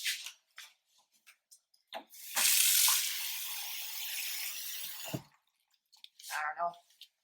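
Water runs steadily from a tap for about three seconds into a blender jug for a green detox smoothie with mango, a fairly loud hiss between brief kitchen sounds and voices.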